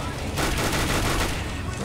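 Dense, continuous gunfire rattles loudly and closely in the CS:GO video game, a rapid burst of overlapping shots filling the moment.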